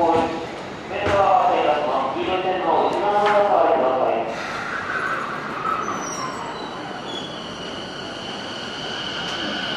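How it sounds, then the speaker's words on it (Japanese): An Odakyu 1000 series express train to Odawara rolls into Shimokitazawa station with rumbling and a rising metallic whine, while a Japanese station announcement speaks over it at the start. "電車が参ります"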